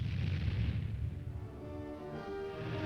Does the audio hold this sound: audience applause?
no